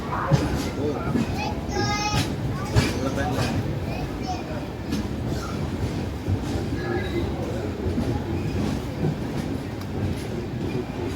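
A train passes, heard from aboard a Kerala Express sleeper coach: a continuous low rumble and rattling of the wagons with faint clickety-clack, and voices chatter throughout.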